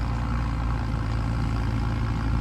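An Arjun 605 4x4 tractor engine runs at a steady idle, a loud, close, low rumbling drone with a regular throb and no voices.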